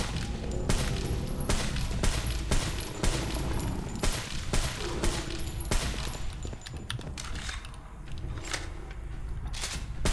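Armor-piercing rounds fire rapidly at zombies in the video game Divine Frequency, the sharp gunshots cracking out in quick, uneven bursts over a dense game background, with no talking.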